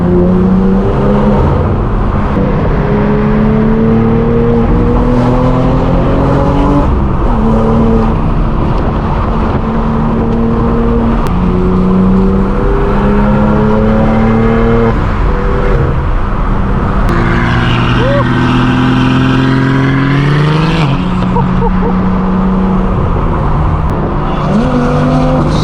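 A BMW F80 with an aftermarket exhaust revs hard and passes close by at a big car meet, its loud engine rising and falling through several sustained pulls amid other crowd and traffic noise.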